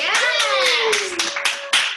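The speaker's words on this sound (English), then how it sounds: "So a big round of applause for the one and only Michael Kink" Guests at a virtual gala clap for an honoree, a handful of distinct hand claps spaced irregularly while a voice speaks over them.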